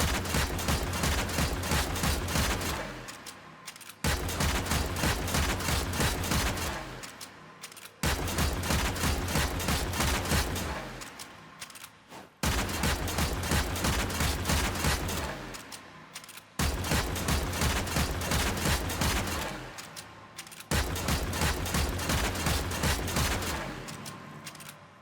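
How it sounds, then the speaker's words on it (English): A Mara Detron pistol in Warframe fires plasma buckshot in six regular bursts of rapid shots, each a few seconds long and followed by a short pause, loud and close with no talking. "shoots a plasma buckshot round that can deal more damage over distances due to having a farther fall-off"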